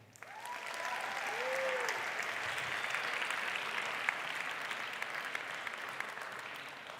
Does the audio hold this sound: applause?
yes